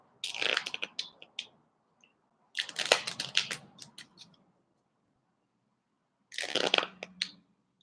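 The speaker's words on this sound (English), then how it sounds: "Actually, let me shuffle them up first." A deck of playing cards is shuffled in three separate bursts of crisp, rapid riffling clicks, with short silent gaps between them. The sound is close and fairly quiet, with no speech.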